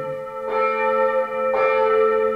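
Church bells ringing at midday in a Hungarian-German village, two loud resonant strikes about a second apart with long sustained humming overtones, heard alone without speech.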